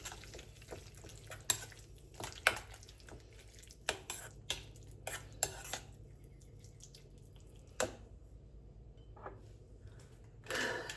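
Salt and grated Parmesan cheese stirred together in a bowl, heard as faint scattered scraping and tapping strokes with quiet gaps between, close but low in level.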